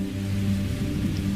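A heavy rain sound effect: a dense, steady hiss of downpour over a low droning bed, brief and unbroken, with no speech.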